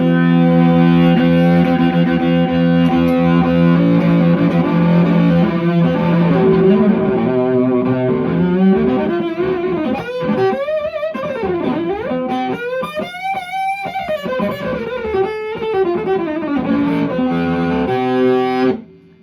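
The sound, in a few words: electric violin with distortion effect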